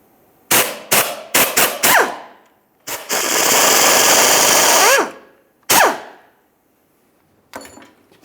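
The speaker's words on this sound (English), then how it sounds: "For this, you'll find a 10mm headed bolt that holds this bracket, holding the sway bar bushing in place. We'll remove this side over here" A power tool working loose the 10mm bolt on a sway bar bushing bracket of a 2003-2011 Mercury Grand Marquis: several short bursts of loud ratcheting, a longer sustained run, another burst, then a faint rattle.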